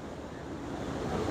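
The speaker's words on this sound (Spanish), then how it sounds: "Y es otra cascada." A waterfall near the hidden village of Habaspamba, an hour from Quito, makes a steady, dense rushing roar that fills the short moment with no talk.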